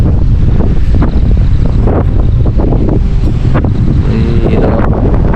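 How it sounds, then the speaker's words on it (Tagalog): Strong wind at a hilltop campsite in Malico, San Nicolas, Pangasinan, buffeting the microphone in a loud, continuous roar with gusty low rumbling throughout, no voices. "Doon nagmumula yung hangin eh"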